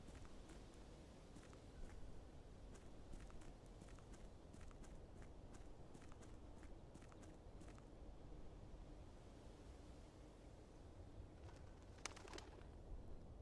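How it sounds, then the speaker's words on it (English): Scattered short bird chirps ring out in an outdoor area of the video game Blue Prince, some brief and clustered over a steady low ambient background, with a brighter burst of calls near the end. "Some birds."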